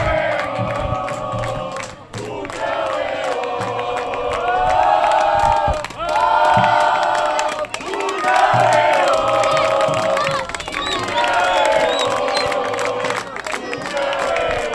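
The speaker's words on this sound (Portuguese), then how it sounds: "A torcida do Guarani faz a festa aqui na cidade de Mojimirim." Guarani fans chant and cheer loudly and continuously at an under-12 youth football match against Itatiba in Mogi Mirim, the crowd roar rising in repeated swelling waves.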